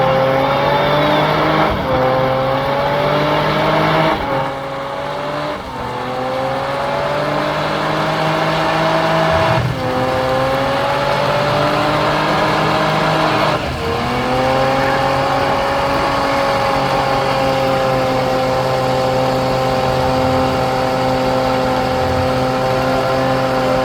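Turbocharged Nissan 370Z drifting on a track, engine revving hard and wavering with repeated throttle lifts and surges, loud and sustained with tire and exhaust roar throughout.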